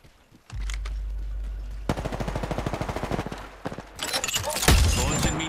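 Video game gunfire from Apex Legends: a rapid automatic burst hammers out evenly spaced shots, then heavier, louder blasts follow, all close and dense with no talking over it.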